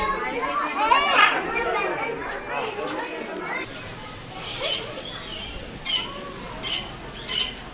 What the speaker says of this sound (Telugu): Blue and gold Macau.